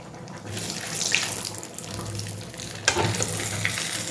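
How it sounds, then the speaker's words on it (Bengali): Cumin seeds sizzling in hot oil for a tempering, a steady broadband hiss with soft crackles that swells briefly near the end, fairly close and with no talking. "বাট আমার জিরের ফ্লেভারটা খুব ভালো লাগে, তাই আমি জিরের ফোড়নটাই দিলাম"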